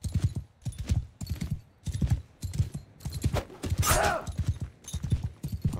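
Horse hooves clip-clopping in the medieval combat game Mount & Blade II: Bannerlord, a steady rhythmic gallop of repeated thuds running through the whole stretch, fairly loud and close, with a brief whinny-like burst near the middle.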